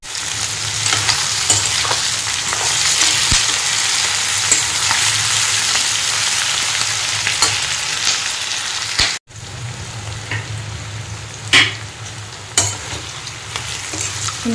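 Pork fries dry in a pan while being stirred, a loud continuous sizzle with scraping stirs, broken by a brief pause midway before the crackle resumes with sharper pops and scrapes.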